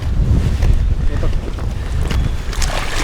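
Strong stormy wind buffets the microphone in loud, rumbling gusts, a roaring blustery noise that fills the whole moment without letup, while fishing for asp while chest-deep in water.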